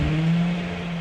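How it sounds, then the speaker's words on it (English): Nissan 350Z with a rusEFI Hellen121 engine controller settling from start-up into a steady idle, with a low, even engine hum that sounds close and moderately loud. "We get it started, starts right up, just like if it was a factory ECU."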